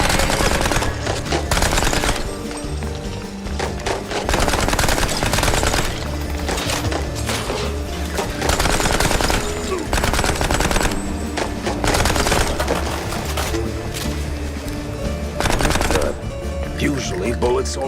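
Rapid gunfire bursts in the Mouse P.I. for Hire video game, dense and loud, repeating in long volleys amid game music and effects across the whole span.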